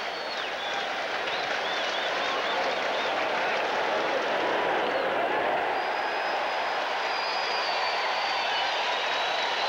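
Baseball stadium crowd at a 1986 Pirates vs Mets game rallying behind the pitcher with two strikes and two outs in the fourth inning, a steady loud roar of cheering and applause throughout.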